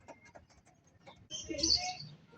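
Homing pigeons gather during training in Lucena City, with soft scattered calls, then a louder burst of fluttering and chirping close by, and faint voices early on.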